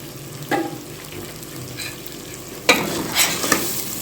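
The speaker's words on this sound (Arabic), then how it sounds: "نقلب شوية" Rice with black pepper and cardamom being stirred in a pot, with a faint sizzle of frying underneath and a few scraping strokes of the spoon, clearest near the end; no talking.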